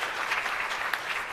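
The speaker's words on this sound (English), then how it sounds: "Let's give him another big round of applause." An audience at a launch event for 4IR centres of excellence clapping, a brief burst of dense, even applause heard from within the crowd, no speech.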